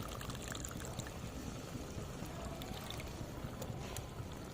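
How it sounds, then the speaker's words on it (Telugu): Water pours into a pan of bitter gourd and tomato curry, a steady rushing splash that holds for several seconds with no talking. "సరే కాబట్టి కొన్ని వాటర్ పోసుకుంటా."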